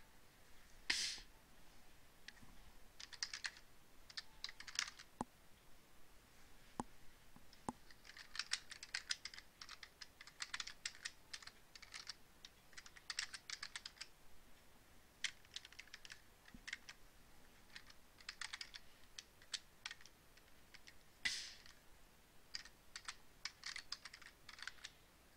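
Typing on a computer keyboard in a classroom, with irregular bursts of close, crisp key clicks and short pauses between runs, alone without talk.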